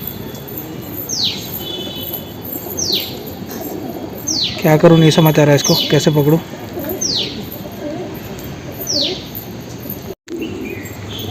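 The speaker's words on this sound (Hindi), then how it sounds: "ये बबरा कबूतर है हमारे छत के ऊपर अभी" Pigeons on a house rooftop, one of them a babra pigeon, give soft coos and chirps, with several short calls spread through the scene and a clear burst in the middle, while a person talks over them.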